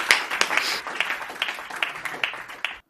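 A small audience at a Hindi poetry reading claps in scattered, irregular bursts at close range, gradually thinning out before stopping abruptly.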